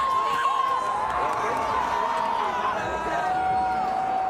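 A packed crowd at the Aspen X Games ski big air cheers and whoops continuously, a dense roar of voices with occasional whistles, close and loud.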